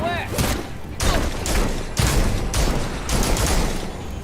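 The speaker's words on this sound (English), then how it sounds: "Enjoying the fireworks." Fireworks explode in the Gotham Knights video game as a series of loud, broadband blasts about every half second, each crackling and booming, with a brief voice at the start.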